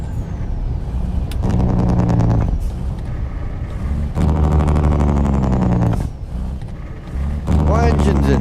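A heavy truck engine in American Truck Simulator, a loud throaty drone with stepped revving bursts as gears shift, separated by short dips, with talk over it.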